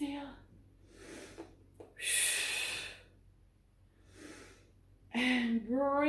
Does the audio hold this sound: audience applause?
no